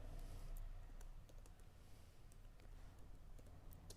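Soft, rapid keyboard typing at low level, with faint scattered clicks over a steady low background hum throughout.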